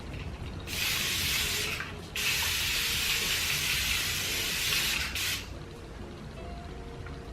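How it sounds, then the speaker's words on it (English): Avon thermal spring water misted onto the face as a setting spray: two long, steady hissing sprays close to the mic, separated by a brief pause, then quiet. "I'm gonna try it as a setting spray"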